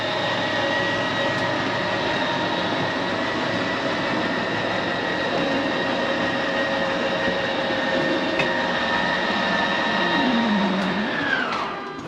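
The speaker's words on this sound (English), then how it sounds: "Once that slide's fully extended, we're going to hear a couple of whines from the motors" A 2020 RPOD 179 RV's slide-out room motors whine steadily as the slide reaches full extension, then the motor tone sweeps down and cuts off near the end.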